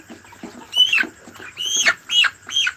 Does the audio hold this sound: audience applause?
no